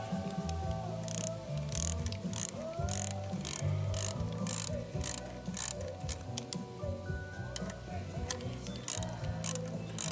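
A ratchet tightens a 10 mm clamp bolt on an IXIL L2X Hyperlow exhaust fitted to a 2015 Honda CB1000R. Crisp, close clicking comes in repeated quick strokes with a mechanical whir between them, and no one speaks.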